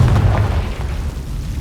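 A Confringo blast spell explodes in Hogwarts Legacy, a loud, deep boom right at the start that rumbles and fades over a second or so.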